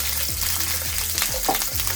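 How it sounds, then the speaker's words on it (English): Oil sizzles and crackles steadily in a pan as seasonings are fried to flavor it before fish goes in for Jamaican brown stew, with a continuous close hiss and occasional stirring scrapes. "So I'm gonna fry up these. And this is just to flavor the oil."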